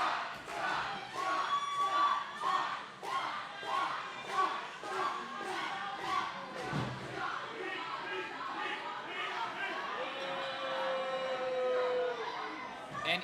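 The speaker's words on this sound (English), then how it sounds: "I can hear him cheering" A wrestling crowd in a sold-out building shouts and cheers throughout a hair vs hair match, with rhythmic chanting, claps and thuds. A commentator talks over the noise.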